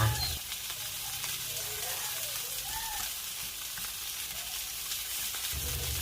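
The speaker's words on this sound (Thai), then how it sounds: "เราก็จะใส่กระเทียมลงทอดค่ะ" Garlic frying with pork in a pan over medium heat, a dense continuous sizzle close up with a few sharp spits, steady throughout and briefly fuller at the start and end.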